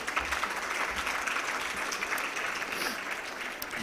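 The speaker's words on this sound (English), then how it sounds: "Let's give them a big round of applause once again." A large audience at a business summit in Islamabad applauds a panel, sustained dense clapping at a steady, moderately loud level with no speech on top.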